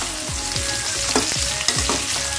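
Onion and chili sauté in a pan for capcay, a bright continuous sizzle punctuated by rhythmic spatula scrapes and taps, close and fairly loud, with no speech.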